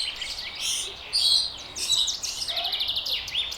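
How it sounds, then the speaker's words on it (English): Several birds chirp and tweet in a home garden, quick high calls coming in bursts over a faint background hush, with no talking. "These all birds."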